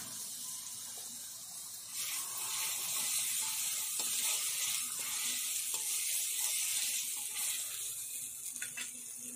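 Chicken reshmi kebabs on skewers roast in a pan with a spoonful of oil and a little butter, giving a loud, steady sizzle and hiss that swells after the first couple of seconds and keeps crackling throughout.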